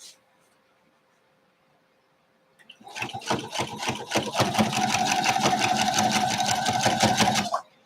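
Brother XR9550 domestic sewing machine quilting minky fabric: after a quiet start, a close, loud, steady rapid stitching whir runs for about five seconds before cutting off.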